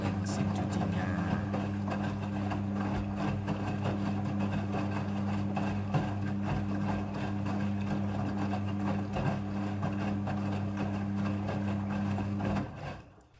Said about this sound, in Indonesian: Proses pembilasan dengan air ini terjadi sebanyak 2 kali pembilasan air.